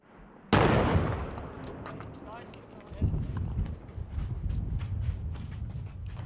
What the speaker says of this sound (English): We just heard the sound of an explosion